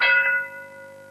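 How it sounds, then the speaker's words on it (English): A single bell strike rings out to open a joke-telling contest, a bright clang with a shimmering tone that decays over about a second, with no voices. "The bell went."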